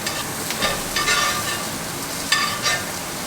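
Rib-eye steak sizzles in a tilted pan as it is basted with melted butter, a steady crackling fry with periodic louder spoon-splash bursts, close and constant.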